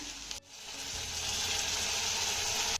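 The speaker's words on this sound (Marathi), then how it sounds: "त्यानंतर हा टोमॅटो देखील आपल्याला चांगला मौसूद होईपर्यंत परतून घ्यायचा आहे" Finely chopped tomato and onion sauté in a pan, giving a steady, close sizzle that starts after a brief pause and swells slightly before cutting off at the end.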